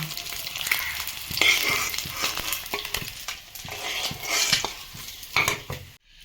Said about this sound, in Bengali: ডিমটা আমি ভালো করে ভেজে নেব।